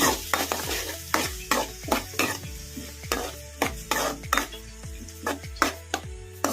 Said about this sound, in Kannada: ಮೀಡಿಯಮ್ ಫ್ಲೇಮಲ್ಲಿ ಇಟ್ಕೊಂಡು ಫ್ರೈ ಮಾಡ್ಕೊಂಬಿಡೋಣ ಉಳ್ಳಾಗಡ್ಡಿನ